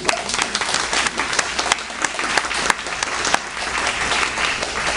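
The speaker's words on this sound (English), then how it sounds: "let's take a moment to applaud because I think it's important" An audience at a social workers' association annual general meeting breaks into continuous applause, an even wash of clapping with sharper individual claps standing out, lasting the whole five seconds.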